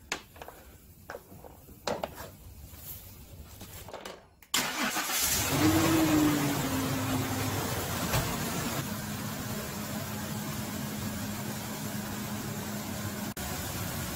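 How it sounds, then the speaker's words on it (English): A car engine cranks during a starter test with a handheld battery load tester. A few quiet seconds pass, then a loud, close burst as the engine catches and settles into a steady idle that continues to the end. "Start engine."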